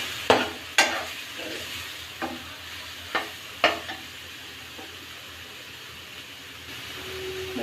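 Spicy Andhra chicken curry masala stirred in a pan, with several sharp, spaced scrapes and knocks of the spoon against the pan over a low, steady sizzle.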